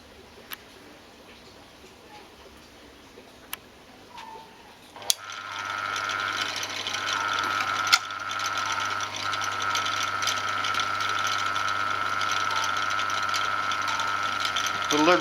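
A milling machine cuts a steel part for a tap wrench, starting with faint ticks and clicks before a steady, loud grinding whine sets in around five seconds and carries on continuously with a slight catch midway.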